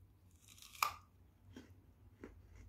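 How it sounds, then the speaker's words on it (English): A crisp bite into a raw yacon, a Peruvian ground apple, gives one sharp loud crunch, followed by two softer chewing crunches, close up in a quiet outdoor setting. "here I am about to eat my first Peruvian ground apple"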